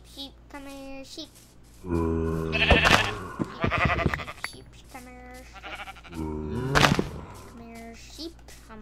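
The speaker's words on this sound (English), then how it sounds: "Sheep. Come here, sheep." Minecraft sheep bleat several times in wavering, nasal calls, while someone talks loudly in between.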